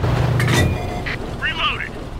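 A WZ-131 tank cannon fires in World of Tanks: a deep, heavy boom with a rumbling low tail opens, followed by lighter mechanical clanks and a brief whistling sweep, while a voice talks over it.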